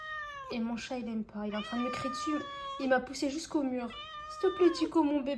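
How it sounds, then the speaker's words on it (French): A house cat meows insistently at its owner, a run of loud, drawn-out cries and yowls close to the microphone, while someone speaks softly over them. "mon chat, il aime pas. Il est en train de me crier dessus"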